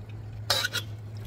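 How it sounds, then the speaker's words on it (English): Mafaldine pasta is tossed with chorizo sausage sauce in a pan, making a short, close scraping and stirring sound of about half a second in an otherwise quiet kitchen. "So let me mix this pasta nicely."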